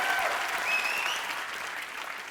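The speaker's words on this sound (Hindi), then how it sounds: "जोरदार तालियां यार" A studio audience on a comedy talk show claps loudly in a thick, sustained wash that fades slightly toward the end, with a few faint whistles heard in the mix.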